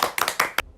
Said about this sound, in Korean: 예, 박수로 그러면 노래 청할게요.